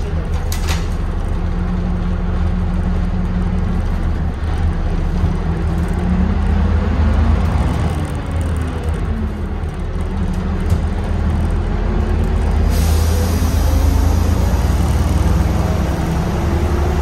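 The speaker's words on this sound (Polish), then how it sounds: "Delektujmy się dźwiękiem tego silnika." A steady, loud diesel engine of a Jelcz PR110U city bus rumbles continuously with a deep low drone, rising and falling slightly in pitch as it revs, heard from close by.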